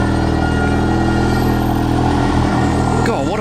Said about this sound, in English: God, what a burble. Out of the Focus RS.